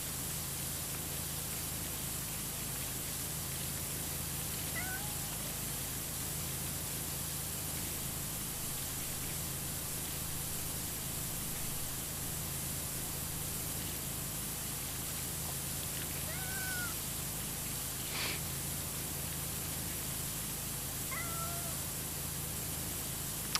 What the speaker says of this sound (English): it sounds like we have one of our cats here on the job with us